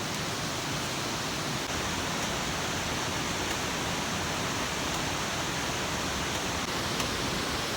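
Steady rushing of flowing water beside an outdoor lunch spot, a constant broadband hiss with no breaks, fairly faint and heard alone without voices.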